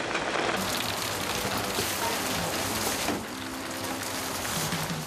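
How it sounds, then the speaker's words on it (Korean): Steady monsoon rain falls on surfaces around a small rooftop room, a dense, continuous hiss and patter that stays loud and even with no voices. "하루 종일 비가 오락가락하는데요."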